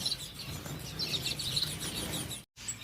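Bengalese finches kept by a breeder chirp in a steady, overlapping chatter of high, bright calls, close and continuous with a low hum beneath, cutting out briefly near the end before resuming.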